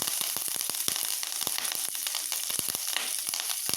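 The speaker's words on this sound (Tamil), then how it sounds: "இப்போ கருவேப்பிலை சேர்க்குறேன்." Curry leaves drop into hot oil while tempering lemon vermicelli upma, setting off a loud, continuous sizzle packed with sharp crackling pops that carry through the whole stretch.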